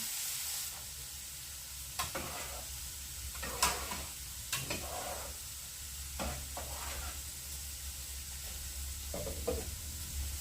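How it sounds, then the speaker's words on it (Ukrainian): Mushrooms fry in a pan with a steady low sizzle, broken by several sharp scraping stirs of a utensil against the pan, no voices. "Гриби підрумяниться і можна вимикати."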